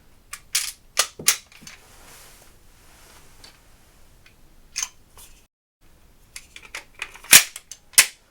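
A pistol's dead trigger clicks during an out-of-battery stoppage drill, with sharp, close metallic clicks and clacks that come in scattered bursts with quiet gaps between them.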